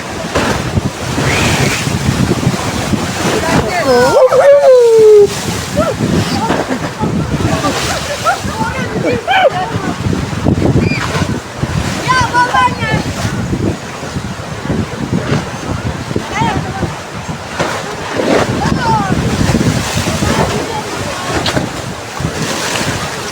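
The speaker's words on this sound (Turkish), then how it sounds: "arkadaşlar dalgaya bakın" Sea waves breaking on the shore at Mudanya, Bursa, a steady loud wash of surf and wind noise buffeting the microphone, with people talking and a brief whistle-like sound over it.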